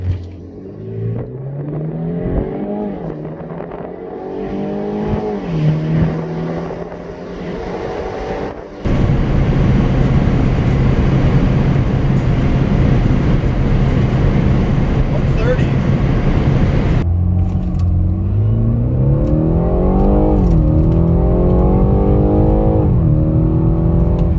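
A 2017 Mustang GT launching hard from a standstill under active launch control, engine revving loudly and climbing through gears with a roaring, sustained surge, heard from inside the car over faint background voices.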